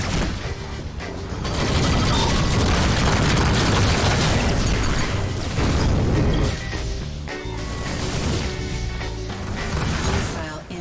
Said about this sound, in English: Missile inbound. There's that missile.